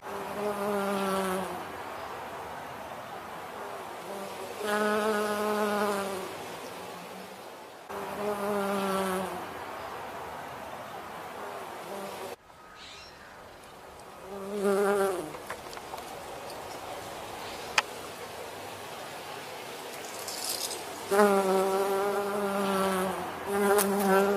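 Bees buzz steadily in bursts, the hum swelling and fading in several close passes with a brief gap midway, alone without any voices.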